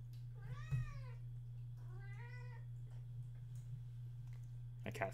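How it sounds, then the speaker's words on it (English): A house cat meows twice in whiny, drawn-out cries about a second apart, close and clear over a steady electrical hum, followed by a sharp click. "My cat's being whiny because my partner left."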